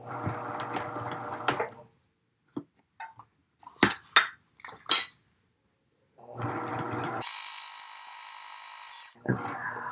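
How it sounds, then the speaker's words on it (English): Sewing machine lock stitching fabric for a lined tieback scrub cap, running in short whirring bursts with rattling clicks and quiet pauses between them, then a longer steady run with a high whine, close and moderately loud. "I am going to lock stitch as well."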